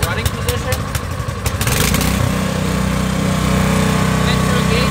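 Toro snow blower engine sputters at first, then settles into a loud, steady small-engine drone heard up close, with someone talking over it.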